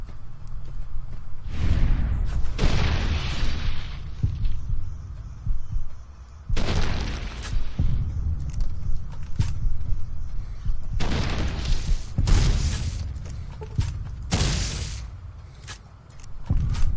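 Gunfire during slowed bullet time in the video game Fallout: New Vegas comes as heavy, booming, drawn-out blasts in several separate bursts across the stretch, loud and close, with rumbling decay between shots.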